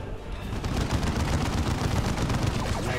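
Sentry guns in the strategy game Dawn of War II fire in a dense, continuous barrage of overlapping bursts, loud and close throughout with no breaks.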